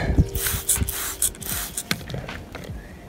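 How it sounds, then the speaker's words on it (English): A few sharp hissing sprays of water from a spray bottle onto a rock, close up, with mechanical clicks of the trigger between bursts. "Let me grab the spray bottle. We'll spray this off just one more time"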